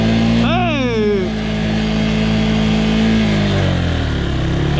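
A motorcycle engine pulls hard through first gear, its pitch sweeping upward in a steady rising whine, close and loud, with a voice talking over the engine noise.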